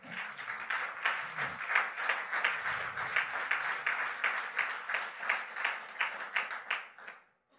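A church congregation applauds and cheers, with steady rhythmic clapping that holds moderately loud for about seven seconds before fading out quickly, with no voices above it.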